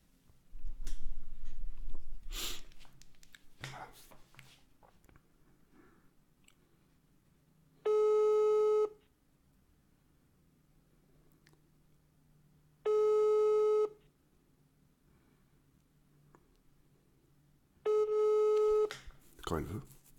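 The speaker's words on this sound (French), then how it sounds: "Donc, hop, on l'appelle. Je mets le haut-parleur" Outgoing call ringback tones over a phone speaker, three evenly spaced one-second beeps about five seconds apart, heard after some handling noise and soft clicks in a quiet room.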